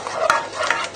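A paste is stirred in a pan lifted off the heat, making a brief, close scraping and swishing sound with two sharper clicks of the utensil.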